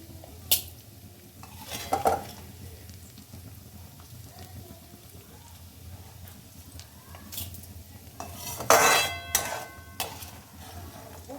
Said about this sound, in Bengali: আস্তে আস্তে চালটা উঠিয়ে নেওয়া হচ্ছে, হালকা করে জাস্ট একটুখানি সতে টাইপের করবে